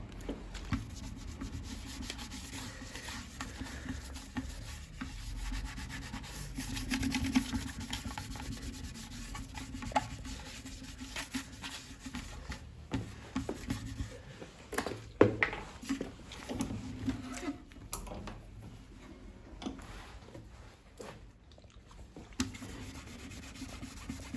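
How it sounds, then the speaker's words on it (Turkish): Irregular scraping and rubbing as paint is rubbed off a boat's wood with thinner, close up, in uneven bursts of strokes with brief pauses. "tinerimizi sürüyoruz. Ve gördüğünüz gibi boyaların hepsi çıkıyor."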